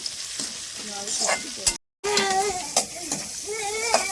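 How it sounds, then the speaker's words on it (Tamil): Onions and tomatoes sizzle steadily in a hot pan with occasional stirring scrapes, close by, and a voice briefly murmurs underneath. "தக்காளி வெங்காயம் கொஞ்சம் நல்லா வதங்கிருச்சு"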